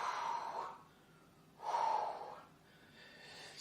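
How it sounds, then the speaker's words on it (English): Two close, faint breaths out during a ski fitness warm-up, each a soft airy exhale about a second apart, with quieter breathing between them. "breathe in and breathe out"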